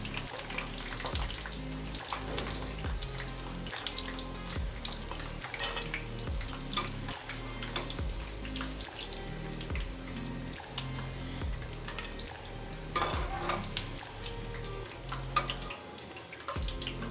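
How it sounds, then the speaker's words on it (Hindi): Okra (bhindi) frying in a kadhai gives a continuous soft sizzle with scattered scraping and clinking of a spoon against the pan, heard without speech. "इनको मैंने अच्छा सा फ्राई कर लेना है। भिंडियाँ जो हैं वो फ्राई हो गई हैं।"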